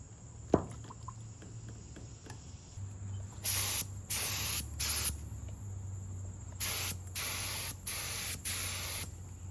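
A spray gun applies Cerakote coating to a custom exhaust for a Honda race car, giving repeated loud hissing bursts of about half a second to a second each, separated by short pauses, over a low steady compressor hum.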